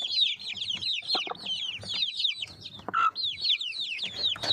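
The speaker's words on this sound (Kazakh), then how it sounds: "Тауықтарым." Backyard chickens clucking and calling nearby, with repeated rhythmic clucks overlapping throughout and a few sharper squawks mixed in.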